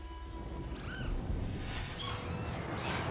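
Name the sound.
cat meowing in video game Nioh 3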